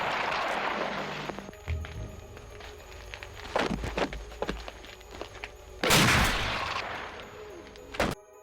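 Revolver shots in a zombie film scene, several sharp, loud bangs spaced a few seconds apart over tense movie background sound and rumble, with no talk.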